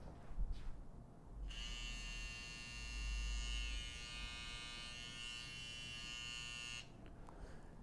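A Stylecraft Saber cordless brushless digital hair trimmer switches on and runs with a steady, high-pitched buzzing hum for several seconds before cutting off, close to the listener.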